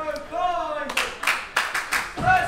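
A crowd at a festive wrestling show claps in several short bursts that start and stop abruptly, heard from some distance with a faint voice beforehand.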